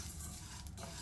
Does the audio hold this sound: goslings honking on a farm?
no